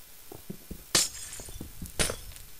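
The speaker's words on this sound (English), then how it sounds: "I hate to break glass, but whatever." Glass blocks breaking in the Minecraft video game, two bright shattering crashes about a second apart over low game background sounds.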